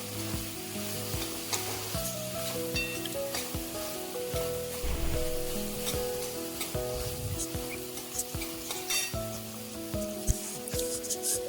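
Chili powder and homemade masala roast in a pan with a steady, close sizzle, broken by scraping stirs and soft knocks, while faint tonal music runs underneath.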